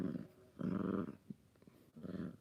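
A playful puppy, just woken from a nap, gives low rumbling growls in three bursts with a brief snort between them, close and fairly quiet with no talking.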